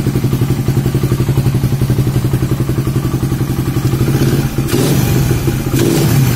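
A Suzuki Satria FU motorcycle fitted with a CPO carburetor starts and idles with a loud, close, rapid rhythmic engine pulse, then revs up briefly near the end.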